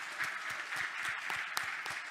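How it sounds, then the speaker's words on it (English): Steady applause from an audience for a panel at an early childhood equity event in Atlantic Canada, a dense, even wash of clapping held at moderate level throughout. "Just one more round of applause for them."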